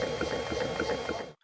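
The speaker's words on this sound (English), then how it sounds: "Fans on the case are louder than the pump." A steady mechanical whir with a bubbling, pulsing texture from PC case cooling fans and an air pump running continuously up close, the fans louder than the pump, then cutting out.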